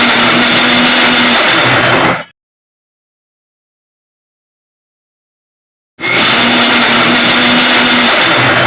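A kitchen blender grinds soaked flattened rice and water into a paste for palm-fruit ice cream, a loud steady whirring roar that cuts out completely for a few seconds, then starts up again just as strong.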